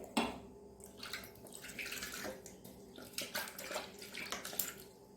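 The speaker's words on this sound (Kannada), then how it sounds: "ಮಿಕ್ಸಿಗೆ ಸ್ವಲ್ಪ ನೀರನ್ನು ಹಾಕೊಂಡು ನಾನು ನೋಡಿ" Water pours and splashes into a mixer grinder jar in a home kitchen during chutney making, an irregular close gush of several seconds with no talk.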